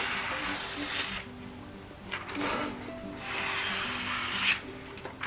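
A Spyderco Para 3 knife blade is drawn across a 6000 grit sharpening stone in a few slow, close rasping strokes with brief gaps between them.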